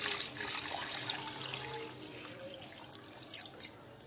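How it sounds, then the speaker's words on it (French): Water being poured into a cooking pot to cook bongo with fish, a soft steady trickle and splash, fairly quiet and continuous for a few seconds. "Là, je vais mettre de l'eau maintenant."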